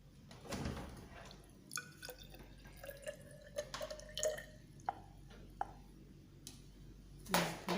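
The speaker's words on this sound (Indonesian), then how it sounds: "Kita tuang lagi airnya ya." Water is poured into a measuring glass, producing faint, intermittent trickles and drips with small glassy clinks, close and quiet, without talking.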